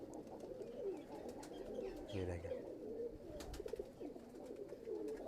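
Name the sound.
pigeons cooing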